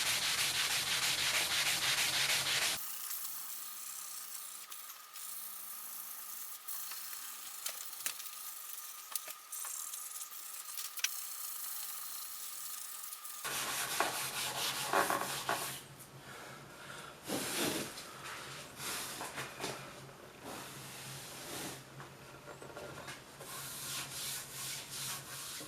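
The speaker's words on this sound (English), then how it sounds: "burnish it, polish it up, polish the wood" A woven wooden cutting board is burnished and polished by hand with close, continuous rubbing and sanding-like friction sounds, coarse and loud at first, then quieter, then strong again.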